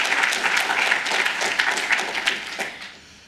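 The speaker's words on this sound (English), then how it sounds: "Can we get a round of applause for keeping Kubernetes sustainable and extensible?" A conference audience at a tech talk on open-source Kubernetes gives a burst of lively applause that holds strong for a few seconds, then tapers off quickly near the end.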